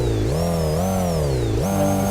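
A car engine revs close by, its tone climbing and dipping and then jumping sharply upward near the end.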